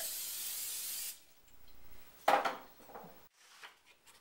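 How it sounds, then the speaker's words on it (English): A short burst of cooking spray hisses onto a pan for about a second, followed by quiet, a sharp clatter, and faint scraping noises close by. "Spray it down, or you can use a non-stick pan if you prefer."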